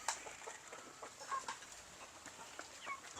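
Young hens on a Philippine farm rearing gamefowl, clucking softly and intermittently at some distance, with scattered faint calls against quiet outdoor background.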